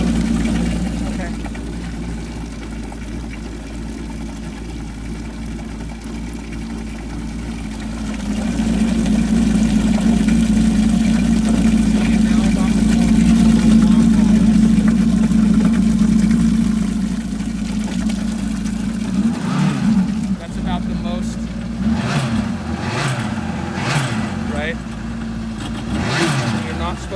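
A jet ski engine runs out of the water during a freshwater rinse, droning steadily, then surging louder for several seconds before easing back, with splashing water and rising and falling whines toward the end.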